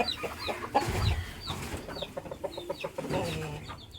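Fighting rooster chickens clucking in a shed, a busy string of short, close clucks and squawks from several birds with scattered rustling, no talk.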